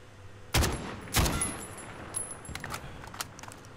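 Gunfire in Call of Duty Warzone: two loud, sharp shots close together, followed by a scattering of fainter, more distant pops and metallic clicks.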